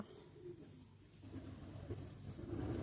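Low, soft pigeon coos repeat several times close by, with a faint rustle underneath and no voices.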